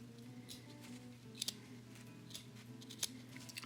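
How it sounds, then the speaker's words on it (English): Scissors cut through plush fabric in a quiet room, a few soft snips and crisp blade clicks over a low steady hum. "keep the bottom blade of the scissor touching the fabric at all times"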